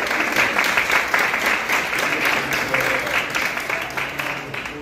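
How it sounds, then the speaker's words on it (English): An event crowd gives another round of applause, steady dense clapping with some uneven louder bursts that gradually thins toward the end. "Please give them another round of applause for this."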